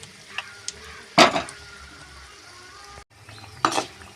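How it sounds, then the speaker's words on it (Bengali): Suji pitha, small semolina cakes, frying in hot oil in a kadai, giving a steady low sizzle with two louder bursts of crackling as pieces drop in or are turned. "এবার আমি সুজির পিঠাগুলো তেলে ছেঁকে নেব।"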